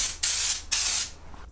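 A spray gun lays a second coat of bedliner onto a 1986 Toyota 4Runner truck bed in two close, loud hissing bursts, each about half a second long, before it tapers off.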